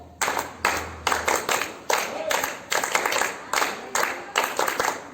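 School students at an Independence Day assembly clap together on command in sharp, synchronized bursts, about a dozen crisp claps in a steady rhythm with brief pauses between them, ringing loud in an open space.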